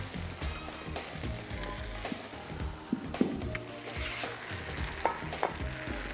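Tossed prawns with spices sizzling in a pan as they are stirred, a steady fry with scattered metallic scrapes and clinks from the utensil.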